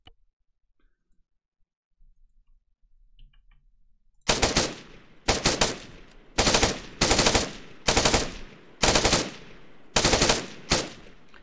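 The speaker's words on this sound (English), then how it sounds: "Let's just fire a couple of rounds from the EF-88." EF-88 rifle in ArmA 3 firing seven short, evenly spaced automatic bursts, loud and sharp with brief gaps between, after a few seconds of near silence.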